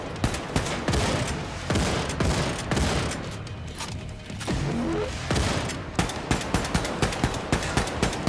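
Heavy gunfire in the first-person shooter Wolfenstein 2 rattles in rapid bursts of loud shots, close and dense, with a run of evenly spaced single shots toward the end.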